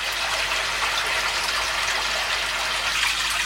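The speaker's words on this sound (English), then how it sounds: "I can hear water coming." A pond pump pushes water into a pipe, a loud, steady gushing rush that runs unbroken, with no voices.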